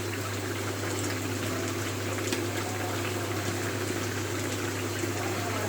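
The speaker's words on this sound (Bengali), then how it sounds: "দেখেন লাউটা আমার কি সুন্দর টকবক করছে।" Bottle gourd and prawn curry bubbles steadily in a pot on the stove, a continuous close simmering hiss with a low hum beneath and no talking.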